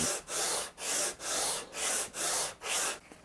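A guitar neck being sanded by hand with 80 grit 3M green core sandpaper, seven long, even rasping strokes in a steady back-and-forth rhythm, close and alone.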